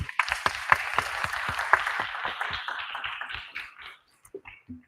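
An audience at a Clayton County school board work session claps in a burst of dense, sustained applause that thins out and fades over the last second, with a few stray claps at the end.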